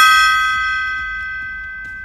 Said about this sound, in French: c'est un gong qu'on sonne à toutes les fois qu'on a une offre acceptée sur un immeuble